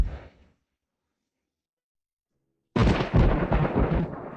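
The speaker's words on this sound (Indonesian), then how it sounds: "Song Lan Yue paling takut pada guntur." Thunder in a dramatic scene: a brief rumble fades into silence, then a loud, sharp crack breaks out and rolls on, close and heavy.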